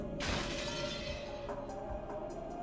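A sharp crash of a teacup breaking in a video game rings out at once, followed by a low steady hum with a few faint clinks trailing off.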